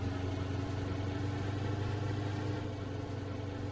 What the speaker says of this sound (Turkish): Şimdi dinleyelim kamyonun sesini. Gaz veriyorum.